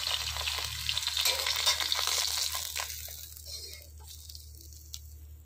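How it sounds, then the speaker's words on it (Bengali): Fish frying in hot oil until reddish, giving a steady, dense sizzle with stirring crackles that is loud at first and then gradually softens and thins out, with no talk. "লাল লাল করে ভেজে নিচ্ছি মাছগুলা"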